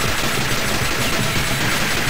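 Gunfire from the arcade video game Metal Slug X: a loud, dense, continuous burst of rapid shots lasting about two seconds, with no voices.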